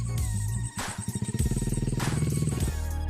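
Motorcycle engine up close, starting with an idle, then revving into a rapid pulsing throb that holds steady before easing back down, loud with no talk over it.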